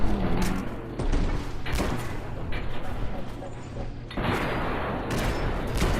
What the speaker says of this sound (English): Now we do have all these explosions, but at least these explosions serve to damage them as well as me.